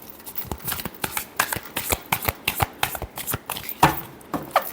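A deck of tarot cards is shuffled close up, with a quick run of crisp riffling flutters and soft slaps in uneven rhythm, with no talk over it.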